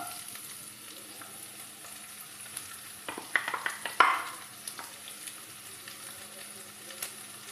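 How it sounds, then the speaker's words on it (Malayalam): Sliced onions frying in a pan for a mushroom dish, a soft, low sizzle with a cluster of sharper stirring clatters in the middle, fairly quiet and without talk. "ഇതിലേക്ക് അരിഞ്ഞു വച്ചിരിക്കുന്ന സവോളയും കൂടി ഇട്ട് കൊടുക്കുകയാണ്."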